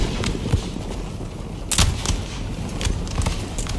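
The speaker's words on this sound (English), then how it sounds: "The artillery unit itself is gonna break this elite French unit." Artillery fire in the video game Empire: Total War, a dense barrage of booming cannon shots with sharper cracks breaking out repeatedly over a constant battle rumble.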